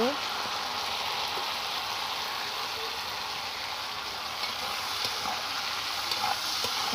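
Okra sautéing with ground poppy seed paste in a pan, a soft, continuous sizzle and frying hiss with faint stirring, steady and fairly quiet throughout, with no speech.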